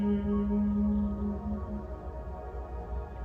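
A steady, low, sustained hum made by a human voice during Bhramari breathing imitates the buzz of a honeybee. It is a single continuous tone held for several seconds at moderate volume, with no other sound.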